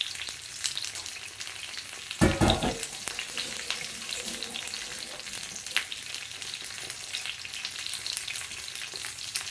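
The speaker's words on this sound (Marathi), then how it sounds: "तेल उडते हातावर आणि डाग पडायचे सगळे" Colocasia leaf rolls (alu vadi) fry in hot, splattering oil, a steady close sizzle with scattered pops and one brief louder burst of crackling early on.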